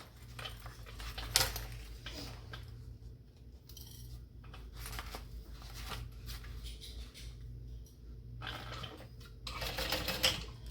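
A sewing machine stitches darts on a Dayna Pack backpack with quarter-inch seams, running in several short bursts with brief pauses between them, a steady low motor hum underneath and no talking.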